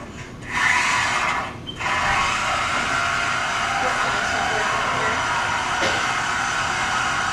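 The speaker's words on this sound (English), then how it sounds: "demonstrating how to use reciprocating saw" A reciprocating saw runs in a steady, loud buzzing drone for nearly the whole stretch, with a brief dip early on before the motor settles back into its continuous whine.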